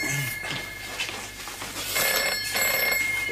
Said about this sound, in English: Oh, that'll be the phone.